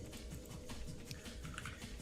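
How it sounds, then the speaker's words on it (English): Keys clatter on a Keychron Q11 split keyboard, a quiet, quick, uneven run of soft clicks that goes on without a pause in an otherwise calm room. "It's a split keyboard, Kristen."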